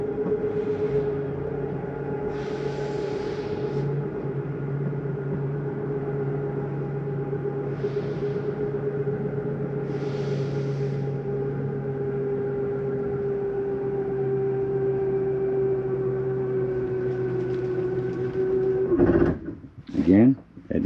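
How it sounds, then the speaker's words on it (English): The slide-out mechanism of a 2024 Jayflight 334RSTS RV hums steadily as the slide retracts, a continuous motor drone with a few brief rattles, then clunks near the end as it seats fully in. "that noise is the mechanism saying we're in all the way"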